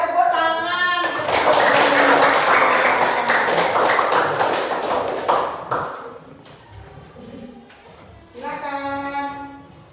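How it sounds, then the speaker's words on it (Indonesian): A group claps hands together for several seconds during a performance session at UNMAS Denpasar, with the dense clapping framed by singing voices before and after it. "tepuk tangan."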